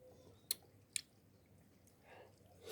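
Big mango cubes being chewed with two sharp wet bites close up, followed by softer squishy mouth sounds, no talking.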